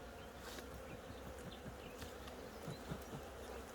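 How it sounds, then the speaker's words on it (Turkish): Honeybees buzz around a beehive frame in a soft, steady drone with occasional closer passes, faint and continuous, no voices. "Şimdi bakın burada hafif arı var."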